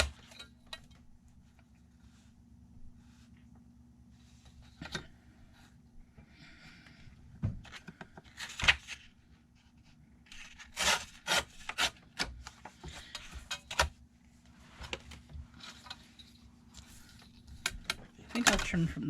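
A painting is trimmed along a straight edge, giving close, intermittent rubbing and scraping strokes with scattered sharp clacks and quieter pauses between them.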